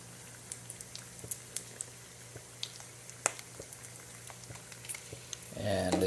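Bacon frying in a pan gives off scattered small pops and crackles over a low, soft sizzle, fairly quiet and close, and a voice comes in near the end.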